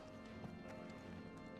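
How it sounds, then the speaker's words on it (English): Heavy creature footsteps in a video game, a steady run of clopping, hoof-like thuds at close range over a dense, noisy game soundscape, with no talking. "I literally was hearing its footsteps."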